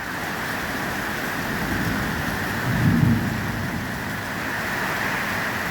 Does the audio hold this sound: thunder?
yes